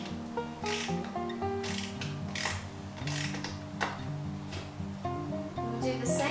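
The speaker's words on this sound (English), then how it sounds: "Then we'll grab our wrench and tighten it the rest of the way." Wrench tightening bolts on a plus size angle bench, quick ratcheting clicks close by over soft background music.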